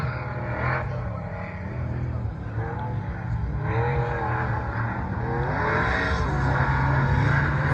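Ultra 4 off-road racing trucks with long-travel suspension at an NMRA event at a 4x4 park in Bowling Green, Tennessee, engines droning and revving steadily, swelling louder as they run, with some faint talk underneath.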